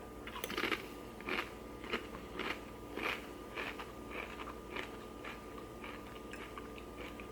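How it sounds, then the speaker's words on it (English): Nacho cheese flavored Doritos chips are crunched close to the mic in steady, repeated bites and chews, each crisp crackle rising over a constant low background hum. "let's get the crunch on"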